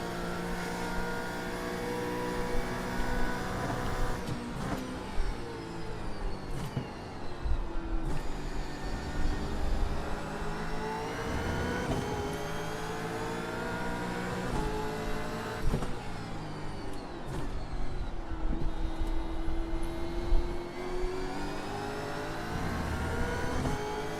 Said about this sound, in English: so just keep the car in the straight line there, Robert.